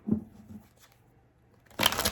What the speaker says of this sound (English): I'm going to do 3 more shuffles for Gemini.